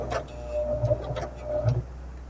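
A sewing machine stitches a quarter-inch quilt seam, giving a soft mechanical whir in two short runs with brief pauses between, close and moderately quiet.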